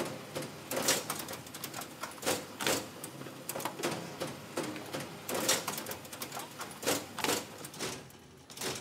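A Watkiss PowerSquare booklet finishing machine runs steadily, giving a busy stream of clattering mechanical clicks and thumps over a constant hum, close and moderately loud.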